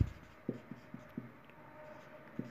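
Marker or chalk writing on a classroom board during a geometry proof about triangles, a handful of short scratchy strokes spaced out over a quiet room, no talking.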